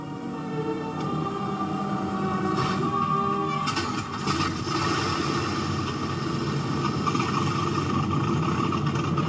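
Wartime B-17 bomber engines, the Memphis Belle's, roar steadily and loudly with a deep droning rumble that holds unbroken for the whole span, a slight dip near the middle, no talk.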